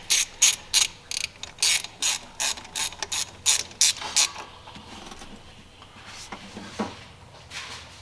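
A hose clamp on a 2nd gen Cummins cold air intake being tightened with a ratchet: a rapid run of sharp, close clicking strokes for about four seconds, then quieter fumbling handling noises.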